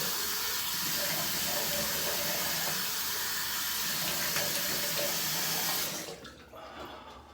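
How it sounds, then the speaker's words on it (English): Water from a bathroom tap runs in a steady, close hiss while someone rinses their face after a shave, then cuts off near the end, leaving a faint splashing. "let's go ahead and rinse everything off, including my face"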